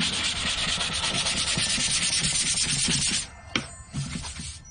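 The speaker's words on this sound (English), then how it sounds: "Just a little bit of sanding goes a long way." Brisk back-and-forth hand sanding of wood on a talharpa (Viking bowed lyre) build, steady for a few seconds, then stopping with a couple of scattered scrapes.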